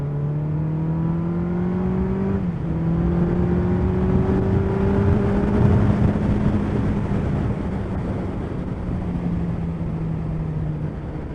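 A Suzuki Hayabusa motorcycle cruises in second gear on a country road, its engine droning loudly with steady rising pitch and a brief gear-like dip, wind noise mixed in, and no talk.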